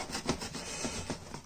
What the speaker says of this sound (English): bit of sawing action.